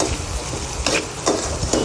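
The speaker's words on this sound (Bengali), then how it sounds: "ভালো করে নেড়ে দিচ্ছি" Steady sizzle of dried fish frying with turmeric, with a few brief scraping stirs of a spatula in a pan, close by, no voices.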